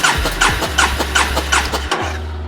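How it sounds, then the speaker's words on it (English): A motorcycle engine cranks over with the throttle held wide open during a cylinder compression test, its starter chugging in a rapid, even rhythm of about six close, loud pulses before stopping. "crack the engine."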